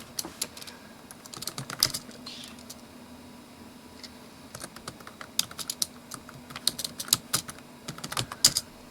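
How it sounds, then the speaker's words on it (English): Typing on the keyboard of a Dell Latitude 433C laptop, close and crisp irregular bursts of key clicks with short pauses, no voices. "Keyboard's excellent, it's a little hard to type because of the palm rest that's on the machine"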